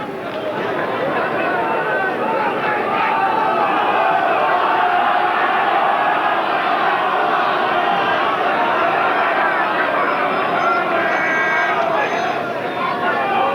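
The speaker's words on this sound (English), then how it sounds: "The crowd really opening up, letting them have some support." A packed terrace crowd roars and cheers steadily in support of Newport during a 1986 rugby union cup quarter-final against Swansea, a loud continuous wall of voices with rising swells and scattered shouts throughout.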